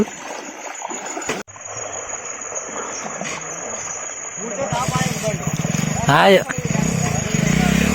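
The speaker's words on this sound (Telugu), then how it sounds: "ఇక మనోడు తీస్తాడు ఇప్పుడు బైక్" A motorbike ridden through a stream near a tribal village, engine revving and water splashing and gushing nearby, rising toward the end beneath people talking.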